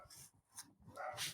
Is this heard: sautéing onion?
no